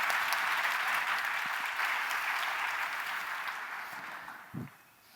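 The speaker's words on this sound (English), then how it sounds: "Applause to that." A large conference crowd at JSConf EU applauds: a broad, even wash of clapping that slowly thins and fades, with a single low thump near the end as it dies away.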